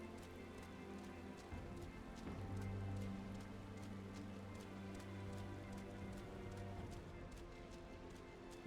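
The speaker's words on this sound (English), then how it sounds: "The rain is quite atmospheric." Rain falls in the video game Final Fantasy XIV: Heavensward, a moderate, continuous patter with a steady rhythm of hoof-like footsteps and sustained musical tones layered over it.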